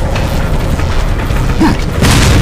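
Grenade explosion in the video game Resident Evil 4, a loud burst near the end following a stretch of rumbling in-game noise.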